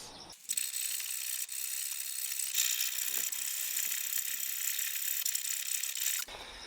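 A hacksaw cuts through a bolt on the frame of a Mazda RX-7 FD3S whose inner welded nut has broken loose. The metal cutting rasps in a steady, bright grind for several seconds, close up, with brief pauses.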